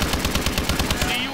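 A light machine gun fires a rapid, evenly spaced burst of about ten loud shots in the video game ExoZombies, then stops abruptly.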